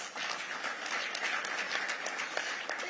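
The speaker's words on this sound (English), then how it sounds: "Let's give them a big round of applause." A conference audience applauds the panelists at an occupational safety and health gathering, a steady, moderately distant round of clapping with no one speaking.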